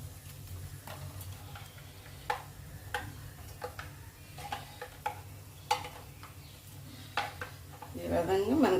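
A spoon stirs cooled tempering into yogurt in a bowl for yogurt chutney, giving close, irregular clinks and scrapes against the bowl amid soft kitchen background.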